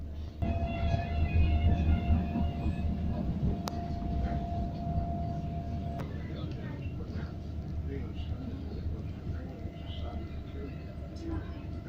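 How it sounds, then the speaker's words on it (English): A Tyne and Wear Metro train heading towards the airport rumbles past at moderate distance, a steady low roar with a faint electric whine and a couple of sharp clicks, constant throughout. "And another set of metro cars heading towards airport."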